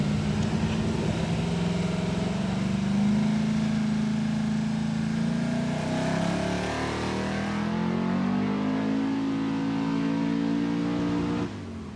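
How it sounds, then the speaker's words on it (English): A Ford XE V8 car revs hard on a dyno, its loud, close engine note climbing in pitch through a sustained power run, dipping once and climbing again before cutting off near the end. "Got an XE on the dyno and it's going to get loud"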